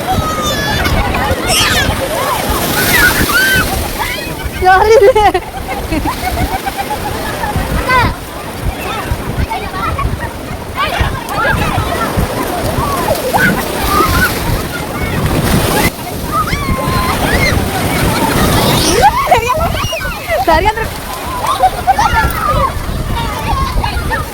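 Ocean waves surge and break at the beach at Tiruchendur, a continuous loud wash of surf with wind buffeting the microphone, while people talk over it throughout.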